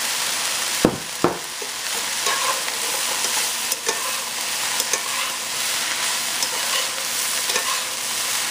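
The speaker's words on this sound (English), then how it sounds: "Let's stir it and see if we're gonna need more or less in it." Fried egg and vegetable rice stirred in a hot pan: a continuous sizzle with repeated scraping spatula strokes and a couple of sharp knocks near the start, loud and close with no talk.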